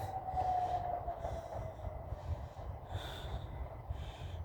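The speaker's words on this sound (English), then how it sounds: "Couple of trains." Trains passing on an evening walk home, a deep continuous rumble of rail cars with a drawn-out squeal and hissy bursts, fairly close and loud, heard alone.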